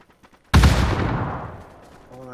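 A loud burst of video game gunfire erupts after a short pause and rings out into a decaying tail, with voices talking around it.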